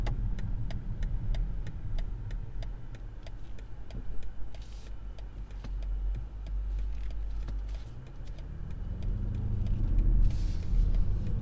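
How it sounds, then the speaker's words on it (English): A 2021 BMW X5M Competition rolls over rough roads, a continuous low road rumble and engine hum from inside the cabin, with regular ticking and occasional thumps and rattles as the suspension takes bumps. "But here we are going over rough roads,"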